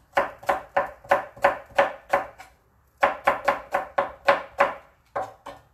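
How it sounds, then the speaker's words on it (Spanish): A knife chops onion finely into small cubes for a carnitas cook. Crisp, evenly spaced strokes fall close and clear in two runs of about eight chops each, with a short pause between them and no talking. "En lo que está, voy a cortar tantita cebolla."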